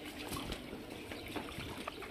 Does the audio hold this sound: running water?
yes